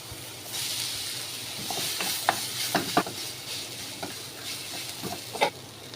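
Mashed potato stuffing is stirred in a pan over a steady low hiss, with a series of scraping knocks and clinks at irregular intervals, near and fairly quiet, with no voices.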